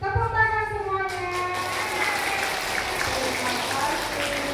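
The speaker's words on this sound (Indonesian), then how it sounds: "Tepuk tangan semuanya." Group of children clapping their hands at a daytime gathering, a continuous patter of claps that starts under an adult's sung or drawn-out voice and then carries on alone at a steady, moderate level.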